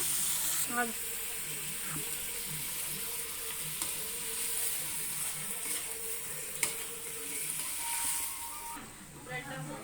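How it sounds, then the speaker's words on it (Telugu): Chicken pieces sizzle in a pan for pepper chicken fry while being stirred and mixed, a continuous close crackle with scraping and clinking and a voice heard at times. "సో చికెన్ యాడ్ చేసుకున్న తర్వాత బాగా మిక్స్ చేసుకోవాలన్నమాట."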